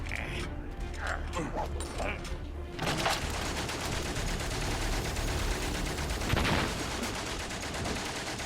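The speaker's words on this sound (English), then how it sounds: "I am absolutely not facing that machine gun." Machine gun fire in the war game WAR rattles as a sustained, fairly loud burst from about three seconds on, with an earlier stretch of scattered clicks and a person talking over parts of it.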